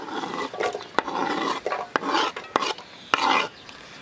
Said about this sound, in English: We take a pan, we add good olive oil, and we add our onion.